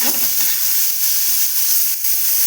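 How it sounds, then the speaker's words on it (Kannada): Finely chopped bitter gourd frying in hot oil in a pan, a steady bright sizzle and hiss running throughout, close and loud with no talking. "ಇವಾಗ ಸಣ್ಣಗೆ ಹೆಚ್ಚಿಟ್ಕೊಂಡಿರುವಂಥ ಹಾಗಲಕಾಯಿ ಹಾಕೊತಾ ಇದ್ದೀನಿ. ಫ್ರೈ ಮಾಡ್ಕೊಬೇಕು ಗೋಲ್ಡನ್ ಬ್ರೌನ್ ಬರೋವರೆಗೂ."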